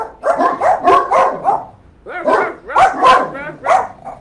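Several dogs barking in rapid bursts, two clusters of loud, close yips and barks separated by a short pause, sharp and excited, with no speech over them.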